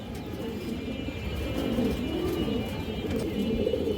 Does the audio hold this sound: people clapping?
no